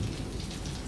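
Steady rain falls throughout, a dense, even hiss of drops on surfaces with no pauses and no voices.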